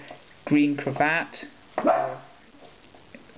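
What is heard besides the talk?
dogs barking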